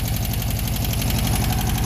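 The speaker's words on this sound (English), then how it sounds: "It's got a little bit of valve clatter." A rebuilt four-cylinder Volkswagen Beetle engine idles up close with a steady, even chug and a slight rhythmic valve clatter running through it, with no voices.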